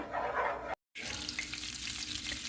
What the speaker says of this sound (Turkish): Arkadaşlar 2 yemek kaşığı tereyağı koydum. Şimdi erimesini bekliyorum.